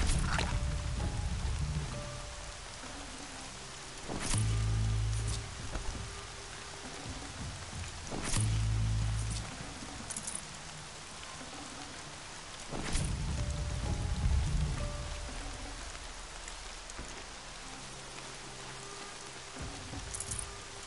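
Steady rain falls in the video game Horizon Zero Dawn, a dense, even hiss that runs throughout, with a few deep low rumbles swelling underneath at intervals.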